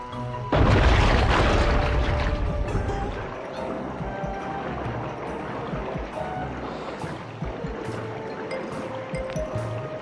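A loud, sudden explosion in the video game Sly 2: Band of Thieves bursts out at the start and leaves a long rumbling decay, followed by quieter game sounds with scattered clicks and ticks.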